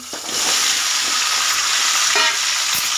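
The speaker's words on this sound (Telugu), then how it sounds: "ఇవి బాగా ఫ్రై చేసుకోవాలి చూడండి బెండకాయ ముక్కలు బాగా ఫ్రై అయినాయి" Okra pieces sizzle and fry steadily in a pan with green chillies and tamarind, a loud, continuous close sizzle with a brief stir or two and no talk.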